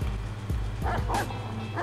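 Dog barking in the video game Watch Dogs 2, a handful of sharp close barks and yips spaced irregularly over a low droning game background.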